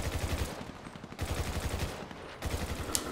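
Rapid automatic gunfire during a GTA Online deathmatch, repeated bursts of quick shots close and loud, broken by short pauses, with no talk.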